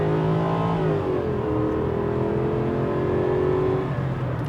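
Jaguar XJ8 V8 accelerating at full throttle from about 25 mph, a steady loud engine drone with rising tones heard from inside the car, continuous and without talk.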